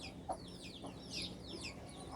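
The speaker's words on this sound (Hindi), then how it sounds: "ये आ गई है हमारा बड़ा मुर्गा।" A big khajuria-coloured rooster gives a few soft, brief clucks over quiet farmyard background, with faint bird chirps higher up.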